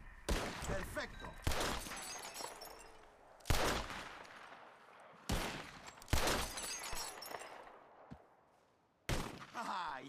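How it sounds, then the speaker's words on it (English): Revolver shots in the western game Red Dead Redemption, each loud crack followed by glass breaking as bottles are hit, spaced a second or two apart with brief ringing tails, while a voice talks between shots. "you shot a bottle."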